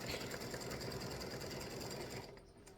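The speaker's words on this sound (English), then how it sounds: "I'm just going to call it a day and let it finish stitching" Sewing machine stitching, a continuous rapid mechanical whirr close up that fades out near the end.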